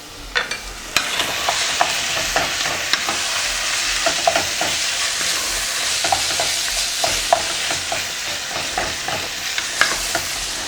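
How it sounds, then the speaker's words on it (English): Ground meat and onion are stirred in a frying pan, a continuous loud sizzle broken by repeated scraping clicks of the utensil, with no talking. "Now you make sure that you mix the meat and onion thoroughly, so all your meat is cooked"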